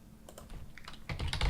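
Rapid clicking of keys on a computer keyboard as a name is typed in, close and clear, in short bursts that grow busier and louder toward the end.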